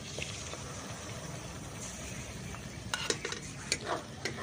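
Cashew, poppy seed and melon seed paste being stirred and sautéed in a pan for Bengali fish rezala, with a soft steady sizzle under scraping spoon strokes that grow sharper and more frequent toward the end.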